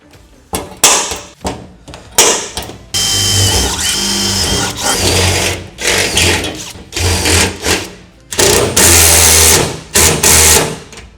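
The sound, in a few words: power tool setting a rivet nut on a truck box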